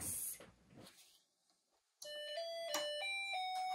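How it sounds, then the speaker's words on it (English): After a short burst of noise and a pause, a Snap Circuits Jr. toy circuit starts its electronic doorbell tune, a sequence of clean, buzzy stepped beeps heard close up. "It lights up and it plays a doorbell sound."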